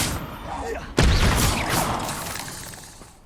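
Confringo blasting spell cast in Hogwarts Legacy, a sudden loud burst with a cracking, shattering impact that rumbles and fades over a few seconds amid ongoing game ambience.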